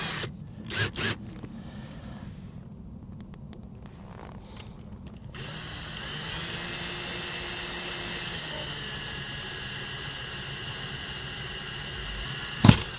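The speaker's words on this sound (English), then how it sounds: "I'm going to switch to a small drill bit and see if I can punch a little pilot hole in there" Underwater, a drill with a small bit bores a pilot hole in a boat hull, giving a muffled, steady grinding whine that starts partway through and continues under bubbling and water noise, with a few sharp knocks.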